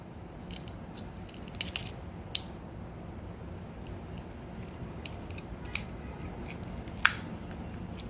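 A Transformers Studio Series 86-23 Voyager Autobot Ratchet plastic figure is folded into shape, producing a few sharp, isolated clicks and snaps scattered over quiet, close-up handling noise.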